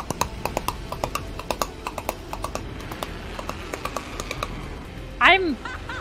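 Hands clapping in a quick, irregular rhythm to imitate a horse galloping on a stone road, a steady run of sharp close claps with a brief vocal noise near the end.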